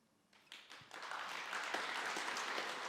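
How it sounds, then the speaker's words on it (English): Audience applause at a startup pitch event, starting with a few scattered claps and swelling into sustained, dense clapping from a full room. "Applause for them."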